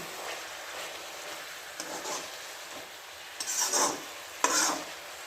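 Cabbage stirred in a hot pan while making noodles, giving a soft steady sizzle broken by a few louder scraping strokes of the spoon near the end.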